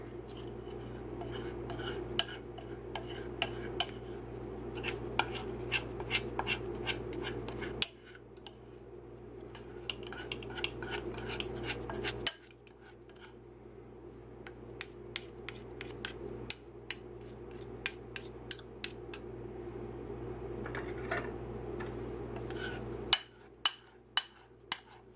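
A spoon scraping up bits of chocolate chip cookie dough in a skillet, with quick metallic clinks and scrapes in bursts over a low steady hum, and a few louder knocks at the end.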